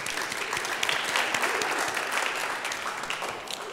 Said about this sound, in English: Please, big round of applause for Jenny.